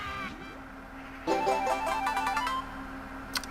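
In the Banjo-Kazooie video game, picking up an empty honeycomb plays a short, bright, rising chime of tones over the level's steady background music, with a brief sparkle at the end.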